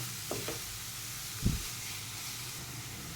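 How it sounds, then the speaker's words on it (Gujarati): Matar paneer masala with onion roasts in ghee and oil in a pan, giving a soft, continuous sizzle with a few scraping stirs and one louder clunk partway through. "જે હતું ઘી તેલ એમ એટલામાં જ આ શેકાવા દઉં છું"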